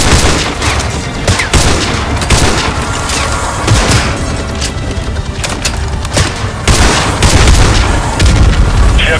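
Sniper rifle fire in Call of Duty Modern Warfare 2 Remastered, with loud booming shots and crackling gunfire spread through dense, continuous battle noise across the whole stretch.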